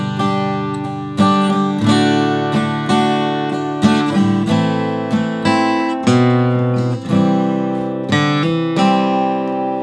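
Guitar playing the first four bars of a song, ringing chords with hammer-ons plucked in a steady rhythm, each strum decaying into the next, close and clear with no talking.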